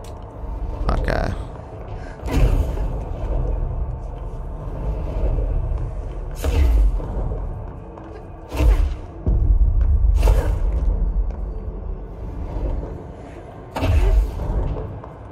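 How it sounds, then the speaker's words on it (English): Deep thunder rumbles in the video game Control, several heavy booming rolls at irregular intervals with quieter low drone between them, loud and close. "Thunder, what the fuck?"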